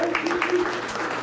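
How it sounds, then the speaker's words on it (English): Applause for the Mayor's Youth Commission at a public safety forum, a steady wash of clapping from a crowd filling the room, with a voice faintly audible underneath. "give them a round of applause"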